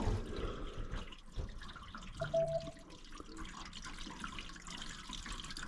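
Water draining from a newly installed bathtub, a steady soft gurgle and trickle with faint drips, close and quiet, with no talking.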